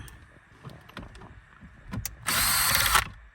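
A cordless screw gun with a T25 bit backing out the stereo screws on a 2007–2014 Skoda Fabia, a short sustained whirring burst of about a second after some faint clicks and handling, close and loud.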